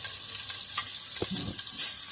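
Chopped onion fries in a pot as the base of an octopus soup, giving a close, steady sizzle with stirring scrapes and clinks throughout.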